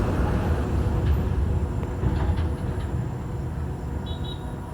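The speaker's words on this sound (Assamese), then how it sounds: "এইটো ট্ৰেইন গৈ আছে" A train passing near the Brahmaputra at Goalpara, a continuous loud low rumble and rattle of wagons rolling past, fading slightly toward the end, with a faint high squeal near the end.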